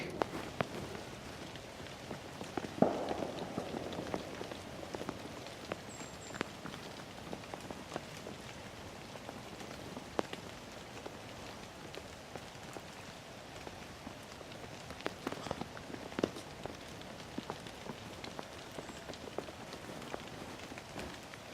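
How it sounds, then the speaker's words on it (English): Heavy, steady rain falls over a long stretch, a dense continuous patter on surfaces with scattered louder drops, fairly close and without any talk. "It began to rain vigorously."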